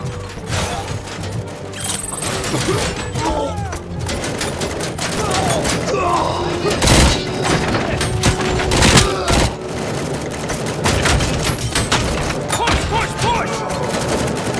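In RoboCop: Rogue City, dense bursts of gunfire crackle almost continuously, with rapid overlapping shots, heavy cracks and mechanical clatter across a busy firefight, and voices shouting faintly within the din.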